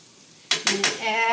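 Green onions stirred into a pot of late night ramen: three quick metallic scrapes and clinks of a utensil against the pan, followed by a soft ringing tone, close up.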